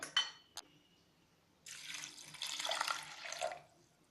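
Water is poured into dal (lentils) with salt and turmeric for cooking in a pressure cooker, giving a steady splashing pour for about two seconds after two brief clinks in a quiet kitchen.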